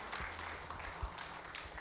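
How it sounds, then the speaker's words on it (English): A church congregation claps in praise at a Sunday service: soft, continuous applause from many hands, faint and somewhat distant, lasting under two seconds with no voices on top. "Give the Lord a clap offering one more time"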